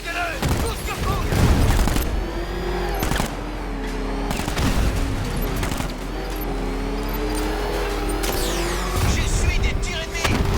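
Gunfire in the Batman Arkham Knight video game: dense, loud bursts of shots and booms across the whole stretch, mixed with engine rumble and voices talking throughout.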